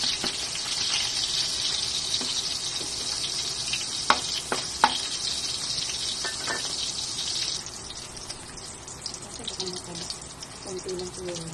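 Chop suey ingredients fry in hot cooking oil with a steady close sizzle and a few sharp pops and clicks. The sizzle eases partway through as a voice speaks over it.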